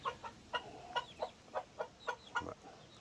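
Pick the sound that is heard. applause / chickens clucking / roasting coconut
chickens clucking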